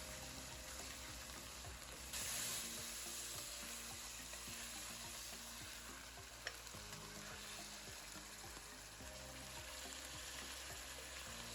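Chicken pieces fry in a pot for brown stew chicken while being stirred, producing a steady, even sizzle with soft scraping stirs underneath and no voices.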